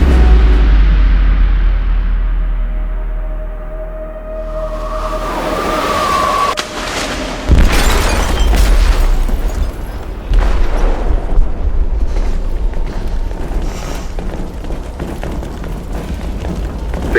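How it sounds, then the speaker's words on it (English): An explosive detonated in a ship's hold in the video game Detroit: Become Human: a deep, heavy rumble builds into a loud boom with crashing debris, then a long roaring aftermath with further thuds. "They detonated an explosive in the hold."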